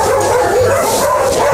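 Puppies at a crowded dog shelter yip, bark and whimper in a steady, overlapping chorus close by, with no talk over them.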